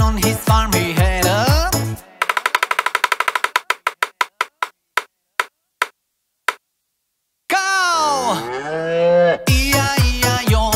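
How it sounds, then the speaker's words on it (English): A cow moos loudly in an Old MacDonald nursery rhyme, with sung notes, then a rapid run of snapping or clapping hits that slows down, followed by more long, bending moos. "With a moo-moo here and a moo-moo there."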